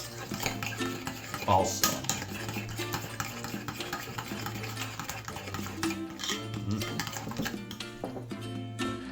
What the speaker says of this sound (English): So I got the oil sizzling right now.